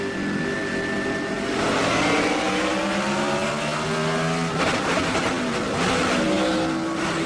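NASCAR Busch Series race car at Las Vegas with a torn-up transmission that won't stay in fourth gear, its engine droning and shifting in pitch at moderate distance, the strained tone rising and falling without any talk.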